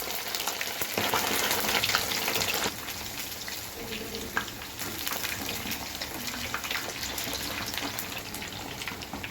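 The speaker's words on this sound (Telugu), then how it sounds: "చేప ముక్కలు నూనెలో వేసుకోవాలి." Fish pieces fry in hot oil over a low stove flame, giving a steady, fairly quiet sizzle with small pops and crackles and no talking.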